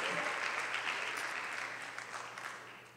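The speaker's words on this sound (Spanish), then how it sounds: "Dale un fuerte aplauso al Señor por su amor y su misericordia." Congregation in a church claps for the Lord, a broad, steady roar of many hands that starts strong and gradually fades toward the end, heard from some distance in a reverberant room.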